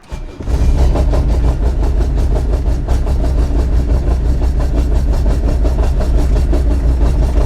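A loud, throaty car exhaust rumbling steadily and continuously, deep and close, with a rough pulsing texture throughout.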